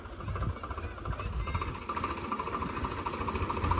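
A Swaraj 735 FE tractor stuck in a muddy field idles with a low, steady, faintly knocking rumble at moderate distance, without any talk.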